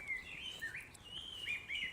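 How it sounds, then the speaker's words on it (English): Woodland birds sing in thin, high, wavering whistles along a forest walk, a continuous chorus that is fairly faint, with no talking. "okay, those birds singing"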